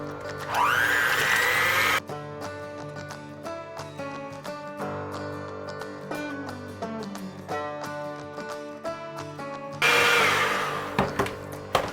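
An electric mixer creams softened butter with two eggs for kettle corn cookie dough, whirring loudly in bursts at the start and end, with tonal music running in between.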